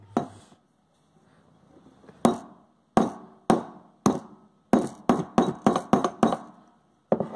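A hammer drives a metal button into jeans pants at home, resting on an iron, with about a dozen sharp, close strikes, first spaced apart and then in a quicker series.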